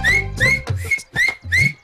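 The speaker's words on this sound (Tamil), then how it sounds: "திறமசாலிக்கு எல்லாம் வந்து விசில நம்ப மாட்டாங்க, கையாலே விசில் அடிப்பாங்க" A person whistles with their hands, producing a series of about four loud, shrill rising whistle bursts in a quick rhythm, close by and with no talk over them.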